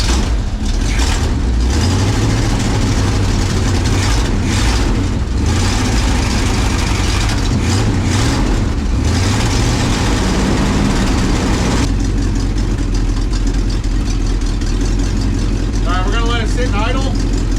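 The engine of a 1968 Chevrolet G20 van idles with a steady low rumble, close and loud throughout, while people talk over it.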